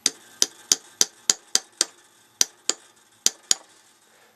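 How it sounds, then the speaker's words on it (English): Sharp, distinct taps striking a guitar body to make a starter hole for an end pin, about a dozen close, crisp knocks in an uneven rhythm with brief pauses, no voices. "I'm going to do a little starter hole right here so that my drill bit"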